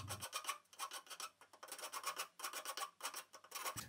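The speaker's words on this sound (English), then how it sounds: "Next, I filed the frets flush." Rhythmic metal filing as guitar frets are filed flush, repeated rasping strokes back and forth, close and clear, with brief pauses between bursts.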